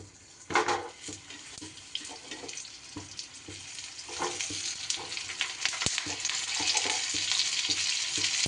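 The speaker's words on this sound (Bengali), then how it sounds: "তেল গরম হলে আমি পটলগুলো ভেজে নেব।" Pointed gourd (parwal) pieces fry in hot oil, opening with a sharp sizzling burst and then building into dense, crackling frying with occasional stirring clatter.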